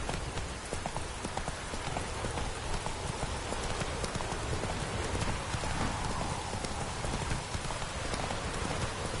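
Hooves of the horse Roach in The Witcher 3: Wild Hunt, a dense steady clip-clop of a moving horse heard close, with a wash of rain over it, with no voices.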